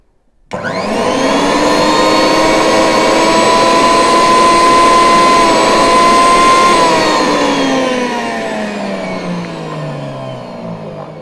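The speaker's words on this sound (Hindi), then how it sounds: "ये एक हज़ार वॉट का मिक्सर ग्राइंडर है तो इसका साउंड चेक भी करना बहुत ज़रूरी है" A 1000-watt Sujata mixer grinder switches on abruptly and runs with a loud, high whirring motor whine, holding steady before slowly winding down in pitch.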